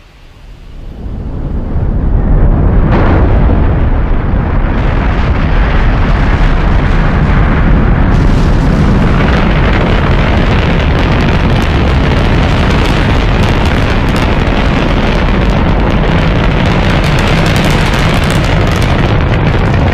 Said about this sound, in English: Here's a quick look at the launch of the Saturn V.